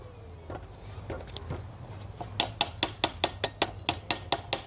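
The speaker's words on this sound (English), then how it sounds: "again we clean off the slug" A chipping hammer knocks slag off a fresh weld: a few scattered taps, then a quick, regular run of about a dozen sharp metallic strikes, close and clear.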